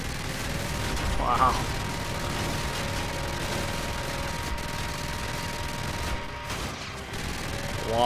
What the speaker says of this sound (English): Surprised there's no cooldown time for the minigun.